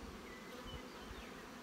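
Honey bees buzz in an open hive, a faint, steady drone of many wings with no voices.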